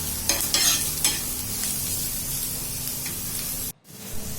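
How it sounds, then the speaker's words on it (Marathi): Chillies, onion and coriander fry and get stirred in a pan, giving a steady close sizzle with scraping spoon strokes early on, then a sudden brief drop to near silence before the frying resumes. "हे सगळं हलवून घ्यायचं चांगलं परतून घ्यायचं"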